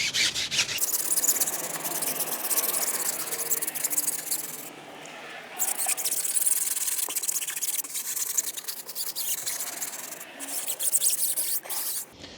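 A brush scrubs hard against the grooved sidewall of a tire during hoseless wheel and tire cleaning, making loud, continuous rasping strokes up close that pause briefly midway and then resume.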